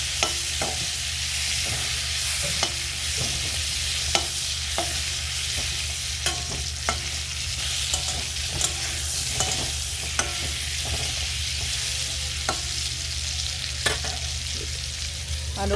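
Pieces of pointed gourd (potol) fry in a pan with a steady, close sizzle, broken by sharp clicks and taps of a utensil as the pieces are turned; no one speaks.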